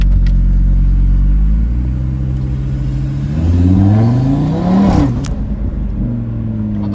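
An Audi TT RS 520 hp inline five-cylinder engine rumbles at idle, then revs up a couple of times with a warbling, rising growl before settling back, close and loud.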